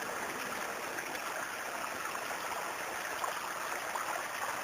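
A flowing stream in a wooded outdoor area rushes with a steady, faint, continuous wash of water and no voices.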